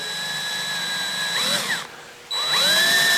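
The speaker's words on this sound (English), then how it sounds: "drill a small hole here and then install small pieces of nail here as support" A power drill bores a small hole into a broken sculpture during a repair, giving a steady high whine that dips briefly when the bit is eased off, then resumes.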